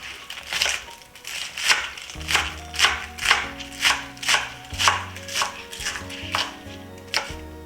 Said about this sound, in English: I'm just going to chop it into small pieces.